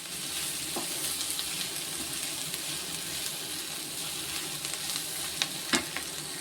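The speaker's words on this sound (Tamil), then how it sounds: "நல்லா வதங்குது இப்போ இஞ்சி வெள்ளைப்பூடு எல்லாமே நல்லா வெந்து வந்துடுச்சு" Ginger and garlic frying in a little oil for chicken samosa filling give a steady close sizzle, with occasional scrapes and taps of a stirring spoon near the end; nobody speaks.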